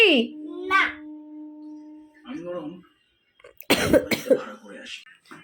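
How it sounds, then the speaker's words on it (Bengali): A few short, harsh coughs and throat-clearing sounds near the end, heard close up among a voice and other people talking. "গলাটা আবার খুসখুস খুসখুস করছে আর কাশি হচ্ছে"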